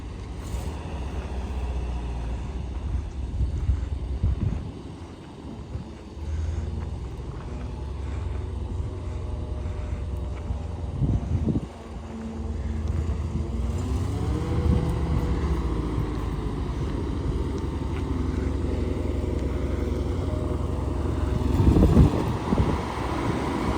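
Engine of a vehicle idling steadily after its brakes were bled, a continuous low rumbling drone with slight shifts and occasional knocks and clunks, heard up close without talk.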